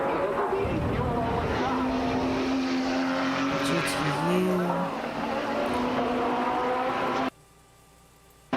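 A Nissan GTO prototype race car roars past loudly on the track, a sustained engine drone with a pitch shift as it goes by, then cuts off abruptly near the end.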